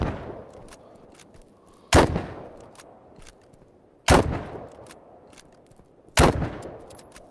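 Gunfire in the video game BattleBit: three heavy booming shots spaced about two seconds apart, each a sharp loud crack with a trailing rumble over a quiet background with faint distant pops.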